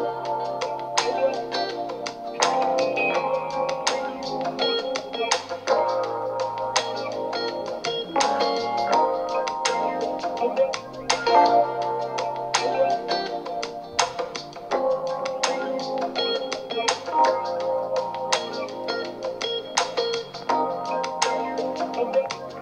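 Music plays steadily through the Harman Kardon-tuned quad speakers of a Huawei MatePad 10.4 tablet, with continuous mid-range content and light percussive ticks at an even level, with no talking.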